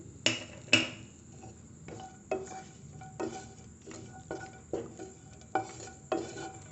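Cashews and raisins stirred in a pan over low flame for pineapple chutney, a steady series of soft spoon knocks and scrapes against metal, about ten strokes, with a faint sizzle underneath.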